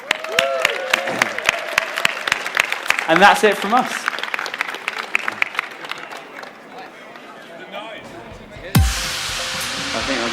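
Audience at EGX Rezzed, a video games event, applauding and cheering at the close of a developer session, a sustained burst of clapping under a speaker's brief closing words, thinning out before a loud thump near the end.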